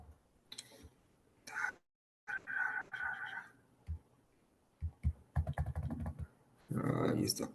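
Computer keyboard keys pressed in irregular bursts of clicky typing with short pauses, close and fairly quiet, with no speech.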